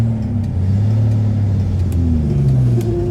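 A Rover P4 100 saloon idles and pulls away slowly in reverse, its engine a steady low rumble with a gentle rise in revs, close and continuous without speech.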